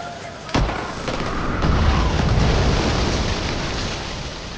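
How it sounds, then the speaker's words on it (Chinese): A helicopter explodes and crashes beside houses in an action film, a sharp blast followed by a sustained roaring, crackling rumble of fire and debris, loud and close, with no talk over it. "爆炸坠毁在房屋边。"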